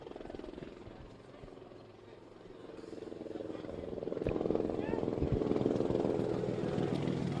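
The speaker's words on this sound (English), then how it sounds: "You can probably hear the helicopters in the effects mic too" Helicopters drone overhead above an outdoor soccer match, a low, pulsing rotor rumble that grows louder and steadier toward the end.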